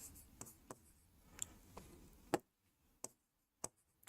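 Pen strokes writing the word glomerulus in a zoology lesson on nephron parts: a run of soft scratchy scribbling, then a few sharp isolated taps and ticks after a pause, close and quiet.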